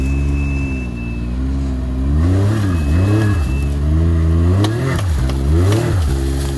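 A Can-Am Maverick X3 XRS 4x4 revs hard in mud, its engine climbing and dropping in repeated loud surges with faint chatter in the background.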